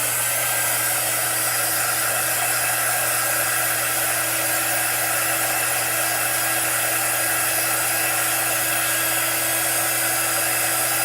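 Steady, loud hair dryer blowing on chalk paint, a constant whooshing air rush with a fixed motor hum underneath, unchanging for the whole stretch with no talking.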